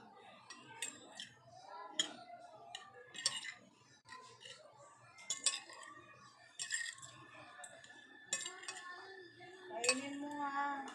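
Metal utensils clink and scrape in a pan while pancit canton noodles are mixed, giving irregular sharp taps at moderate loudness, with people talking over the stirring.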